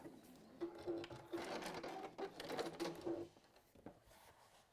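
A sewing machine stitches through fabric binding, running in short bursts that speed up and slow down, including a triple stitch, quiet and close with no talking.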